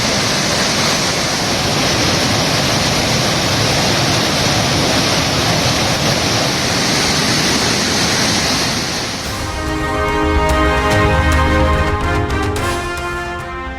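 Suruli waterfall in flood after a night of heavy rain roars as a dense, continuous rush of water, loud and close, with a faint electronic tone entering near the end.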